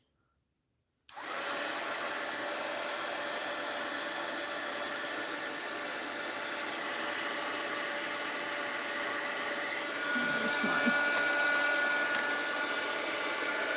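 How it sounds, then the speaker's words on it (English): After a second of silence, a heat gun switches on and blows a steady, loud rush of hot air during mixed-media wax seal work, holding constant with a slight rise near the end. "Let's hit that with the heat gun."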